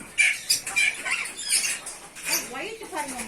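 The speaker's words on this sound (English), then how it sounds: "This is the Australian parrots." Australian parrots on a farm give a string of sharp, shrill squawks and chattering calls at close range, uneven and bursty, with faint wing flutters and a person's voice speaking nearby.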